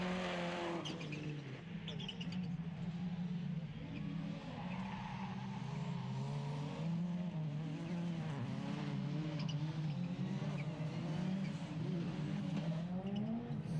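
Rallycross cars race through the final lap at Chateauroux in France, engines revving and shifting in a continuous roar with tire noise, while a commentator talks over the racing.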